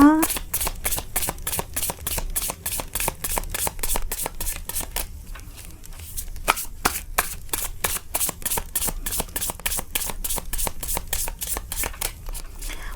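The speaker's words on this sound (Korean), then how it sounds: "카드 셔플 하도록 하겠습니다." A deck of tarot cards is shuffled by hand in a steady run of quick, crisp riffling flicks, close and clear, continuing almost unbroken for the whole stretch.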